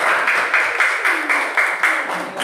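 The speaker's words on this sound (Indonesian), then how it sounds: "kita berikan tepuk tangan untuk kelompok 2" A classroom claps for a student group in a rhythmic, unison pattern, loud and close, with roughly regular beats repeating about four times a second.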